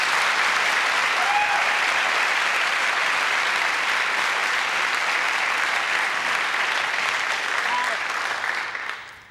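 A television studio audience applauds at length, a loud, dense wash of clapping that holds steady before fading out near the end.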